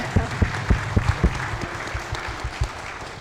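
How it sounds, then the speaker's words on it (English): Applause from the audience at a community forum celebrating immigrants in Marin: a string of distinct claps at a steady rhythm that slowly loosens and thins out, moderately close, with no voices over it. "you can applaud"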